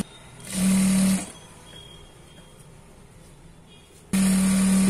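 A sewing machine stitches the curved seam of a khajuri salwar in two steady bursts of motor whir, one early and one at the end, separated by a quiet pause with faint room hum.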